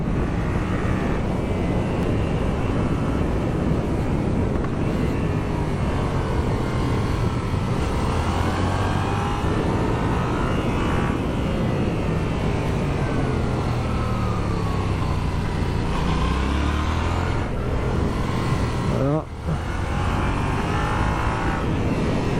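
A 2020 Yamaha MT-07 A2 motorcycle on a winding road, its engine droning continuously under steady wind rush, rising and falling in pitch as the bike accelerates between bends, with no talking.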